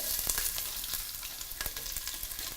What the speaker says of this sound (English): after I pour in the vegetable oil, I put my onions